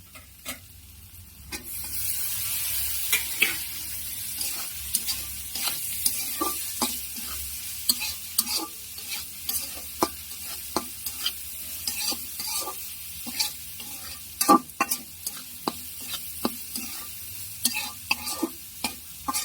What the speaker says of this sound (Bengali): এর ভিতরে এখন আমি শুটকিগুলো দিয়ে একটু নাড়াচাড়া করব।